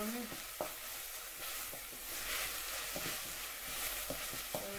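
A bean and garlic mixture fries in a pan with a steady sizzle while a spoon stirs it, scraping and tapping the pan now and then, close and fairly quiet.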